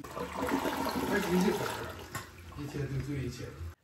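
A toilet flushing after installation. It gives a loud rushing gush of water that swells, eases off into a swirling drain and then stops abruptly, close up and with no talking.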